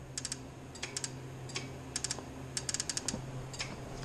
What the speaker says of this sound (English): So that is all the injectors firing.